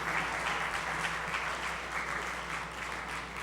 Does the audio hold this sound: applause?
yes